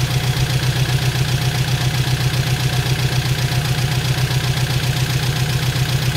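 Close, loud 2006 Saturn Ion engine idle with a steady rapid pulsing rumble, running evenly without any talking.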